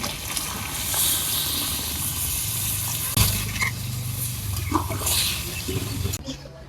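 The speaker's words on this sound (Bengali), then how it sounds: "এখন আমি জল দিয়ে দেবো ঝোলের জন্য পানি দিয়ে দিলাম" Water poured into a pot of chicken and radish curry, a continuous splashing pour close by, fairly loud, ending with a brief clatter, with no talk.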